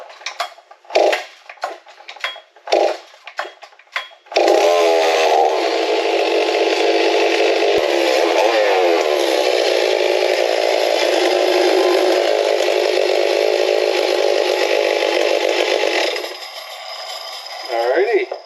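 A Stihl M382 chainsaw is pulled over a few times with sharp bursts, then fires up and runs loud and steady at high revs for about twelve seconds before dropping back toward idle, close to the listener.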